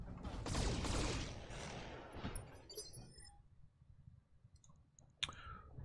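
Mech weapons in the Battletech video game open fire in a dense, crackling volley that rings out and fades over a few seconds, followed by a single sharp impact near the end.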